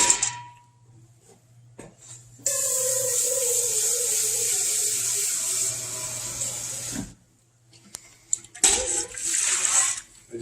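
Water running and pouring into a pot over bones for stock, a long steady splashing stream that stops abruptly, then a second shorter burst of pouring near the end, with quiet gaps between.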